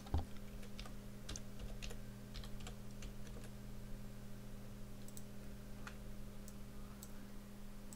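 Soft typing on a computer keyboard, scattered quiet key clicks in irregular bursts over a faint steady hum, without speech.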